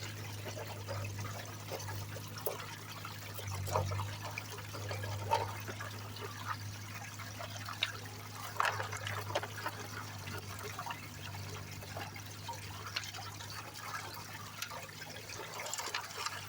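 Water steadily pours and trickles over stones in a gold-digging setup on a mountain vein site, a continuous wash with a low motor hum underneath and scattered clinks of rock throughout.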